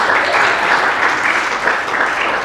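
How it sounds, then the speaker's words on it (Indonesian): A church congregation applauding after a pastor sings during a sermon: continuous, dense clapping from many people, loud and even throughout, with no pauses. "Kasih tepuk tangan kali."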